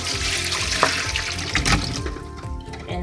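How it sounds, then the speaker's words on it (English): Cold water running from a kitchen tap into a sink while potatoes are prepared for peeling, a steady close splashing stream that continues throughout with no talk. "Sometimes I turn on the cold water in case if it's too hot."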